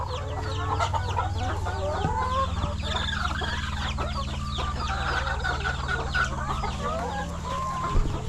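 Chickens clucking steadily at a fishpond farm, a dense close chorus of overlapping clucks and calls with an occasional rooster crow, continuous and fairly loud with no talk.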